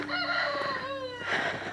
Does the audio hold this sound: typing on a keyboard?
no